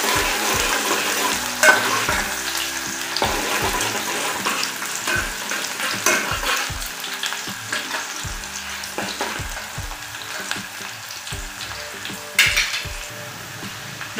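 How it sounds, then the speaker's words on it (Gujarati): Chopped onion sautéing in oil in a pan while being cooked to pink, a steady hiss beneath repeated rhythmic scraping and tapping of a spoon, close and with no voices. "ડુંગળી આપણી ગુલાબી રંગની થાય ત્યાં સુધી આપણે સોતરવાની છે।"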